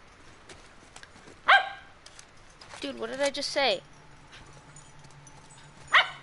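A dog lets out two loud, sharp barks several seconds apart, with someone talking and exclaiming in between.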